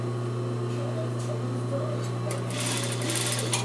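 A sewing machine stitching a seam on plaid fabric, a close, steady mechanical hum with rapid needle clatter throughout and a faint voice in the background.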